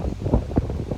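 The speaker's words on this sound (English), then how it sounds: "Man, that wind is blowing." Wind gusts rumble and buffet across the microphone outdoors in a bean garden, a loud, low, continuous roar.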